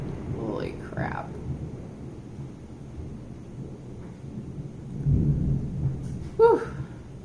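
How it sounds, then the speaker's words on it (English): Deep thunder rolls through an intense thunderstorm, a low continuous rumble that swells into a heavier crack near the end, with brief voices breaking in over it. "This is an intense storm."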